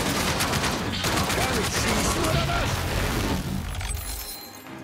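Rapid gunfire bursts in the video game Outcast 2 – A New Beginning, dense overlapping shots and booms filling the first few seconds before tapering off, with some crashing debris mixed in.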